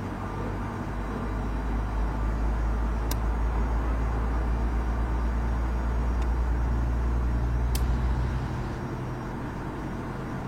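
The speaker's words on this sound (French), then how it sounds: "on a un son du démarrage très réaliste grâce à ce pack de son" A steady, loud low rumble of an A321 jet engine spooling up in a flight simulator, with a constant hum and faint whine, brief clicks over it.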